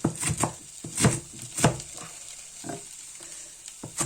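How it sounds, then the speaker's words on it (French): A knife chops radish leaves on a board in a series of sharp, irregular thuds and clicks, close and fairly loud, with brief pauses between bursts. "Et la fan de radis, eh bien, on va le hacher."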